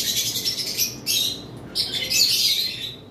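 Yellow-sided conure parrots give harsh, shrill squawks in several loud bursts separated by short pauses, close by and with no talking.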